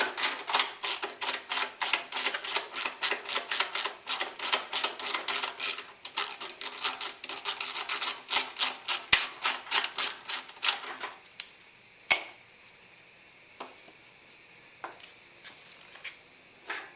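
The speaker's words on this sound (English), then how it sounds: "I'm going to remove this 12mm bolt here." A ratchet wrench loosens a 12mm bolt on the fuel tank of a 1981 Honda CB650 motorcycle: a long run of rapid, close mechanical clicks, then quieter scattered clicks and taps toward the end.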